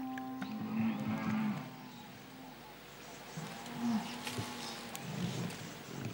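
A herd of about forty cattle along the Niger River in the Sahel, with several drawn-out moos at moderate distance, rising and falling one after another over a faint outdoor background with insects.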